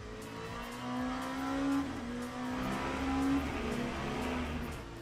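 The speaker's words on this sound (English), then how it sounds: "So I'm absolutely flooring it there." A race car in the Le Mans Ultimate racing game, a high-downforce prototype, at full throttle out of a corner. Its engine roars loud and steady, rising in pitch through gear changes with no talk over it.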